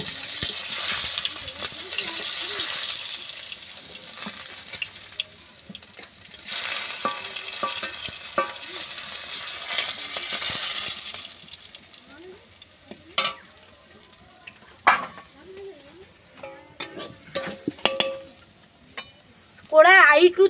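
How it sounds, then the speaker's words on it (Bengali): Small fish fry in oil in a pan, a loud steady sizzle with stirring scrapes, fading in places and broken by clatters near the end. "এই দেখো হালকা হালকা ভাজা হয়ে যাচ্ছে, তবু আরো ভাজবো।"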